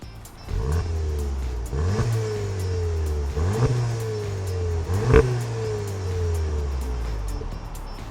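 A 2025 Volkswagen Jetta GLI accelerates hard, its engine revving up through repeated gear changes in a rising-and-dropping pattern, loud and close, with no talking.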